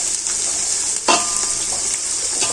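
Turmeric and coriander powder being stirred into a simmering fish curry in a pan: steady close sizzle with a spoon scraping through the thick mix, one brief louder clink midway.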